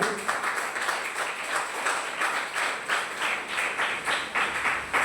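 Steady audience applause at a women's business gathering in Fort Kochi, many hands clapping in a continuous moderate wash at middle distance, with no speech over it.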